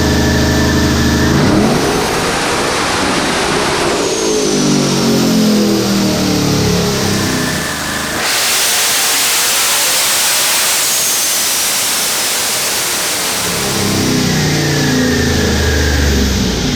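A ProCharged Ford Mustang strapped to a dyno runs through a full pull, the engine revving hard and loud with rising pitch, dropping briefly midway, then climbing again to a sustained roar.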